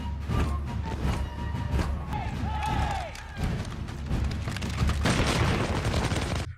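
Rapid volleys of movie gunfire from a Revolutionary War battle scene, sustained loud crackling shots and booms with crowd noise and shouting underneath throughout.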